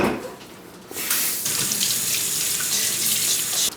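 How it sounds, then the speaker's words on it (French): Salmon rinsed under a kitchen tap with lukewarm water: steady running water splashing into a sink, quieter for the first second then a continuous near, full rush to the end, no voices. "vous le prenez et vous le rincez à l'eau tiède."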